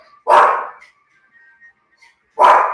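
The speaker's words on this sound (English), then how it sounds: "My dog is going crazy." A dog barking at squirrels and cats in a backyard, two sharp loud barks spaced about two seconds apart, close by, with quiet between them and no talk.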